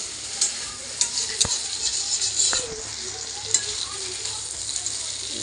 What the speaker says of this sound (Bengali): তেল ছিটে।